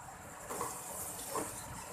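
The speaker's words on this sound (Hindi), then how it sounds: "हल्का सा लगाऊंगी पानी का छींटा ताकि ड्राई मसालों के फ्लेवर इन्हेंस हों।" A splash of water hits dry spices in a hot pan while cooking a green bean and potato dish, giving a steady broad sizzling hiss with a couple of brief surges and no talking.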